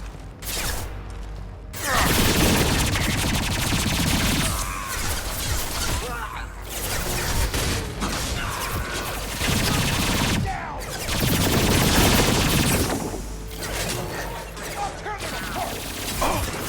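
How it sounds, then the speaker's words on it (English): Bursts of automatic gunfire against mechs in Mass Effect 2 Legendary Edition, loud and dense, with rapid volleys punctuated by short lulls and mechanical clatter throughout. "I'm not firing at you, Grunt. I'm trying to fire at the mechs."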